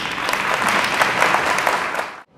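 An audience at a Dia Nacional do Choro celebration in Santos' Museu Pelé breaks into steady, full applause for about two seconds, then it cuts off abruptly.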